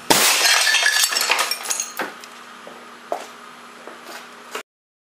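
Air cannon shot striking Whipple shield plates and destroying the first and second plates: a loud shattering crash with clinking debris that tapers off over several seconds, followed by scattered tinkling fragments.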